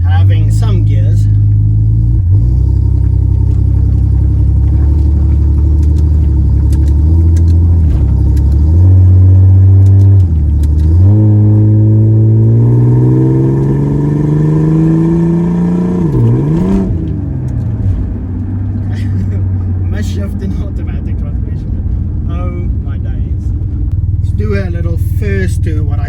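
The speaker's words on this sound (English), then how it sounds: "now let's go see if it can do a burnout." A lifted, off-road Ford AU Falcon sedan revs hard for a burnout, its engine droning loudly and rising and falling in pitch through several surges and gear changes. Someone talks over it at times.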